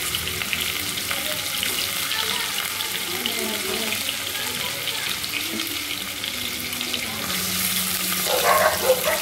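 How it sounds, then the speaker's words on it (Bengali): Chicken pieces shallow-frying in mustard oil, a steady soft sizzle and bubbling hiss with occasional light clatter, running evenly before a louder, busier burst of frying near the end. "পিসগুলো ভেজে ভেজে নেবো অল্প করে, হালকা করে ফ্রাই হবে"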